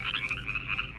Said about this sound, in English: There were frogs,